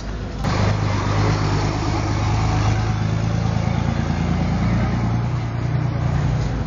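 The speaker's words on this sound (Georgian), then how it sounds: "ეს მანქანების ხმაური" Constant roar of road traffic close by in Kaspi, Georgia, engines droning and tires hissing in a steady wash of noise, with faint voices in the background.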